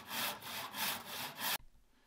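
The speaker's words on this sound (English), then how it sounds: "Now I'm gonna use my miter box and just a regular hand saw to make these cuts" A regular hand saw cuts through wood held in a miter box, close and clear, with about six steady back-and-forth rasping strokes before stopping abruptly.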